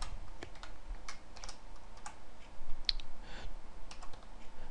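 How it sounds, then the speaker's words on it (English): Code typed on a computer keyboard in Visual Basic, a quick irregular run of close, crisp key clicks with brief pauses between bursts, heard alone. "Now you notice as you type"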